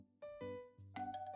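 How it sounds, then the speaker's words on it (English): A doorbell rings in the Love Curse video game, a clear, close chime of several sustained bell-like tones in a ding-dong pattern, with the notes overlapping and ringing out with no speech. "It doesn't take long before the doorbell rings."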